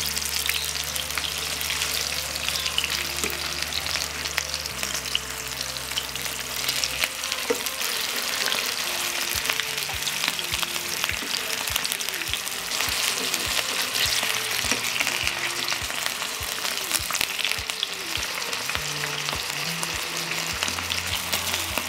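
Pljeskavica patties frying in a pan, a continuous dense sizzle heard close up for the whole stretch, with a low steady hum underneath and scattered crackles.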